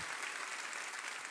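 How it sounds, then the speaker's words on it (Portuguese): Steady applause from a church congregation of around 230 people, a dense even wash of clapping that fills the short moment with no voices above it. "Uma salva de palmas"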